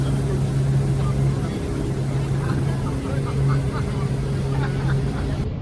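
A tour boat engine drones steadily and loudly throughout on the Chicago River, a continuous low rumble with faint voices under it.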